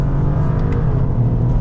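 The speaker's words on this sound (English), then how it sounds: "So with the paddles, you can just prompt downshift straight away." A 2025 Toyota GR Corolla with automatic transmission revs as the driver downshifts with the paddles, a loud, steady engine drone with a brief blip, heard from inside the cabin.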